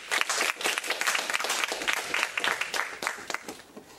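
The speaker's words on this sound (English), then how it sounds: "give her another nice big round of applause." An audience claps for a speaker at a demo speech event, a dense, lively round of applause filling the room for about four seconds before thinning slightly.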